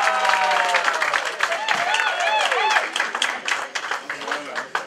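An audience applauds at a surprise 100th birthday celebration, scattered clapping running under speech and sung or drawn-out vocal tones, fairly close and moderately loud.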